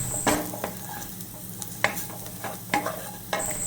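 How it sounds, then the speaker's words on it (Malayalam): Vegetables for a paneer curry sauté in a pan, a soft steady sizzle broken by repeated scraping stirs of a spoon against the pan, close and with no talking. "അപ്പം നമുക്ക് കുറച്ച് നേരം കൂടി ഇതൊന്ന് വഴറ്റിയെടുക്കണം."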